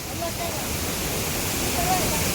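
Mala Falls waterfall in Karkala taluk, Udupi, gives a steady, dense roar of falling water that fills the whole stretch without letting up.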